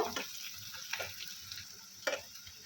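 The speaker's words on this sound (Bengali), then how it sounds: "পেঁয়াজটা অনেকটাই নরম হয়ে এসছে, আর একটুখানি গোলাপি করে ভেজে নেব।" Chopped onions fry in a pan for a sesame chicken dish, giving a soft, steady sizzle with a few brief stirring clicks. The cooking is close and quiet, with no voices.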